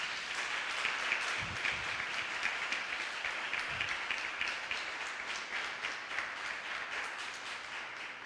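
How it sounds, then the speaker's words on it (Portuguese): A church congregation applauds together in a long, steady, even wash of clapping that holds for several seconds at moderate distance, fairly quiet overall and with no voices on top. "Podemos aplaudir as nossas irmãs."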